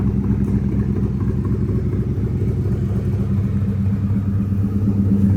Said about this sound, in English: It's got a very nice rumble to it for a stock exhaust system with the catback.